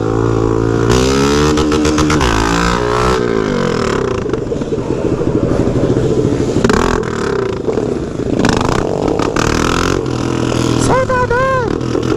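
A Honda XRE motorcycle revs hard and rides close by, its loud engine climbing and dropping through repeated throttle bursts, with another engine passing and brief voices under the noise.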